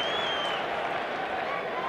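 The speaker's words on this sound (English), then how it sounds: "And another round of applause here." Cricket crowd applause fills a stadium during a 1985 India versus New Zealand semi-final, a steady roar of clapping and cheering throughout while a commentator talks over it.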